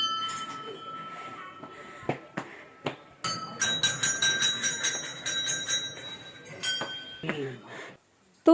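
Many offered metal bells at a mountain goddess temple in Uttarakhand ring out in a cluster of bright clangs, first a few single strikes, then a dense run of overlapping rings that fade away, with a voice faintly heard.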